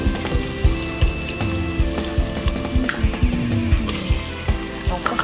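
Onions fry in a hot pan and are stirred steadily for rice, a loud continuous sizzle broken by repeated scraping knocks of the spoon against the pan at an irregular pace.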